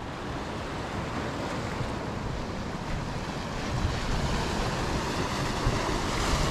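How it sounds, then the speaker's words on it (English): Ocean waves wash and break against a mossy rocky shore in Hawaii, a steady broadband roar of surf with wind buffeting the microphone, swelling slightly louder toward the end, no voices. "Ocean water right there."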